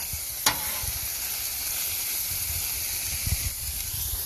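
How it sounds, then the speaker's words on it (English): Onions, mushrooms and peppers sizzle loudly and continuously on a Blackstone griddle outdoors, with a couple of sharp scrapes or taps from a spatula over the dense frying hiss. "I'm just going to drag some of that extra grease over here to help these onions out a little bit."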